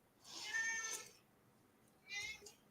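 A cat meows twice at home, and both calls are faint. The first is longer and drawn out, and the second is shorter and comes after a pause.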